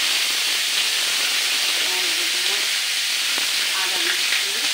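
Onions frying in hot oil with bay leaf, a steady broadband sizzle and hiss running throughout at close range, with faint clinks and stirring noises scattered over it.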